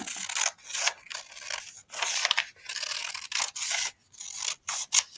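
Scissors cut paper straight down the middle: a close series of crisp, rasping snips in quick irregular strokes with short pauses between, no talking.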